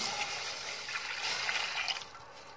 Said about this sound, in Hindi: अब हम ऐड करेंगे इसमें 1 कप दूध।